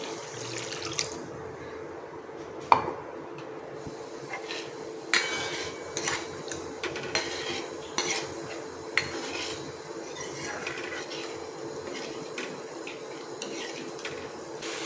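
A spoon stirs about a glass of water inside a mixer jar while ladoo and potato curry are being prepared, giving a soft watery swirl with scattered light metallic clinks against the vessel.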